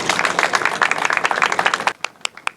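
Audience applause at a Freedom Month ceremony honoring the 400 rolls as a dense, close burst of clapping that cuts off abruptly, leaving a few scattered claps trailing away.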